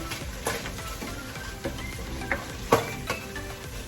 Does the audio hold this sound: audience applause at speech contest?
no